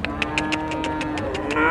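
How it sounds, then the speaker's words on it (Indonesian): A Simmental cow at a livestock market gives a single drawn-out moo, loud and close, over a steady rhythmic clatter of market background noise. "ada sapi simental super sekali sahabatku"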